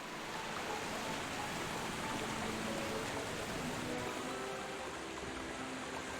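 A steady broadband rush of falling water from a waterfall in the Pokémon Violet game, even and unbroken throughout, with no voices.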